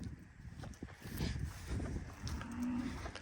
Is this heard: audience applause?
no